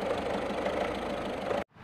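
A diesel car engine idles steadily, a dense continuous mid-range rumble with a faint knocking texture, close and loud, cutting off abruptly near the end.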